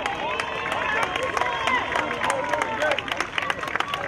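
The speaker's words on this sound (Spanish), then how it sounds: "Vienen los aplausos para esta joven." A stadium crowd at the finish of a girls' 1500 meters race breaking into scattered applause and cheering, close and lively, while an announcer talks over it.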